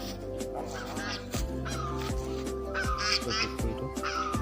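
Ducks at a village pond in Assam give harsh, repeated honking quacks, close and clear, over a steady low hum, with a few sharp knocks in between and no talk.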